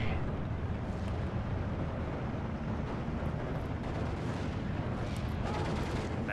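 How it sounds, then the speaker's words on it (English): A Maxim machine gun fires in the WWII strategy game Steel Division 2, a continuous, rumbling stream of distant battlefield gunfire mixed with heavy booms, steady and dense for the whole stretch. "Maxim's just been firing away"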